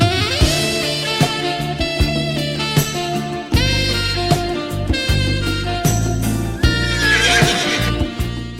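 Horses in the Gallop Racer video game neigh and whinny loudly in repeated bursts, with clip-clop hoofbeats and synthesized game sound underneath.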